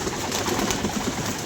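A pigeon coos in soft, low repeated murmurs, close by, amid a steady background hiss.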